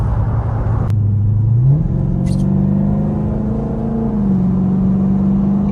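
A straight-piped Dodge Durango accelerates on a highway with a loud, close, droning exhaust rumble that climbs in pitch and then holds a steady roar.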